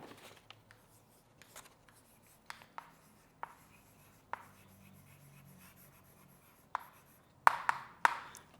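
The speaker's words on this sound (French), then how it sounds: "on va écrire le titre" Pen writing a title by hand on paper during a physics lesson, a soft continuous scratching with occasional sharp taps and clicks, close and quiet with no talk.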